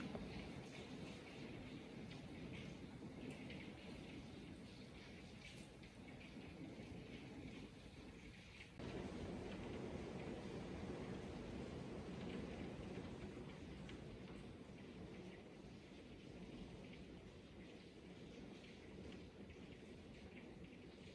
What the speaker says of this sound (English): More glorious rain.